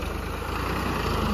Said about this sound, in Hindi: पीछे जाएगा ट्रैक्टर।